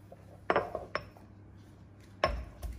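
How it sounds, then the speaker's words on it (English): Garlic cloves being smashed in a mortar and pestle while preparing herbed chicken: three or four sharp, close knocks and clinks at irregular intervals, with faint rattling between them and no talk. "let's get to now smashing some garlic"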